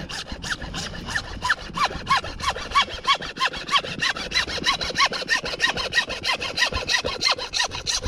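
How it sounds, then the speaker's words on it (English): A hacksaw cuts through Schedule 40 PVC pipe in quick, steady back-and-forth strokes, each rasping pass close and clear, with no talking. "I'm going to use a hacksaw just to show you"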